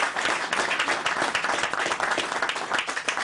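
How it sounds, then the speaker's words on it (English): An audience at a Stony Brook University council meeting breaks into loud, dense applause. It continues steadily from start to finish with no speech on top. "So that in itself is worth an applause."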